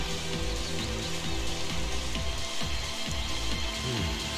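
Rain falls steadily at the Sunleth Waterscape in Final Fantasy XIII, a dense, even hiss of drops on surfaces with low rumbling game ambience underneath, continuous throughout.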